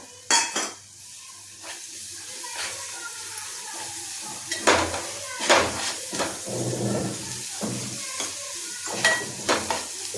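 A spoon stirs ground masala paste around a pan for shev bhaji, giving soft scraping and clinking in irregular strokes with a light sizzle beneath, close and moderately loud, with no talk.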